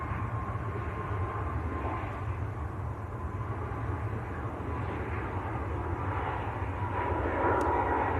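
Ryanair airliner at Manchester Airport on a flight to Shannon, its engines giving a steady, continuous broadband roar heard from a distance that holds evenly throughout without any talk.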